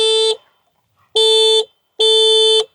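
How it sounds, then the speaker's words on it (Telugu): A TVS NtorQ 150cc scooter horn sounds three loud, steady electric blasts outdoors in an open area: one short honk, a pause, then two longer honks in quick succession, with no talking. "ఒకసారి హార్న్ చెక్ చేద్దాం."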